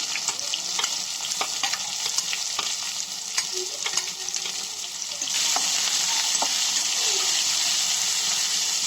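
Curry leaves and shallots fry in hot oil in a pan, a steady broadband sizzle with scattered crackles and pops, growing denser and louder partway through as more goes in; no one speaks.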